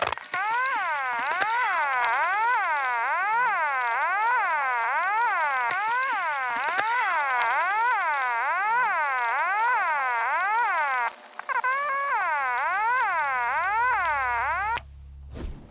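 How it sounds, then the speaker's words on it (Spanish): A loud, eerie electronic siren wails steadily, rising and falling in a fast repeating cycle, with a brief break before it continues and stops. "terminaban sobresaltados por un sonido de sirena fuerte e"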